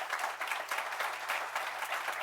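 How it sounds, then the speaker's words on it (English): An audience at a town swearing-in ceremony and organizational meeting gives sustained applause, a steady wash of many hands clapping, moderately distant and even in level. "Please give them a round of applause."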